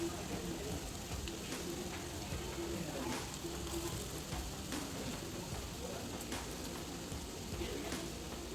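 Cabbage pakoras sizzling as they deep-fry in hot oil, a steady dense crackle with occasional sharper pops, close and continuous throughout.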